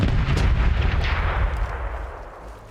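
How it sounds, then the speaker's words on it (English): Ship cannons fire a starboard broadside in the pirate game Corsairs Legacy, a heavy rolling barrage of deep booming blasts that starts loud and slowly fades out over nearly three seconds, with no talk. "Starboard is ready to fire!"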